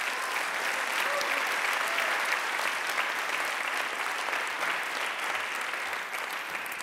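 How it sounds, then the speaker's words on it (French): Sustained applause from an audience at a circular economy challenge event, a dense, even wash of clapping that holds steady and eases off slightly near the end, with no speech over it. "Merci, on va vous applaudir"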